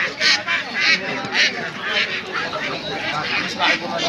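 Geese honk repeatedly in short bursts close by at a poultry market, mixed with other poultry calls and people talking over the noise.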